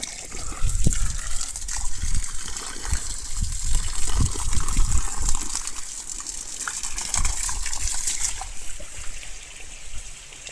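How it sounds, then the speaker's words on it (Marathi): Water gushes and splashes forcefully from an irrigation pipe in a sugarcane field, a loud continuous rush with surging bursts, heard up close with no talking. "तुम्हाला पाण्याचा प्रेशर दाखवत"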